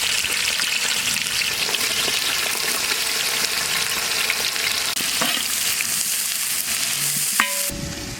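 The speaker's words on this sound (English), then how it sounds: "Now we are adding sliced onions." Sliced onions frying in a pot with raw spices for Hyderabadi mutton curry, a loud, steady sizzle throughout with stirring scrapes, ending in a brief clink.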